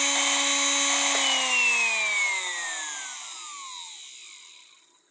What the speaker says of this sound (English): Maddy, this is your new motor.